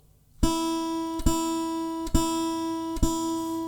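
Guitar playing sheet-music exercises, four sustained plucked notes struck at a steady, even pulse, each ringing until the next, close and clear with no voices.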